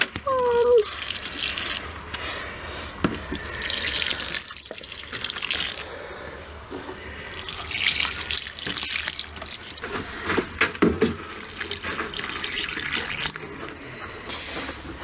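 Water running from a tap or hose to water plants in a greenhouse, a steady hissing flow with splashes and drips throughout, close and fairly loud, with a person speaking at times.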